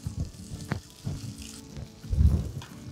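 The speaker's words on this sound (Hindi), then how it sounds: "नेक्स्ट इसके अंदर मैं डालूंगा जिंजर गार्लिक पेस्ट, और हल्का सा इसे मैं भून लेता हूँ।" Ginger garlic paste sizzles as it fries in a pan with onions, a steady crackling hiss with a few soft stirring knocks and a louder burst near the end.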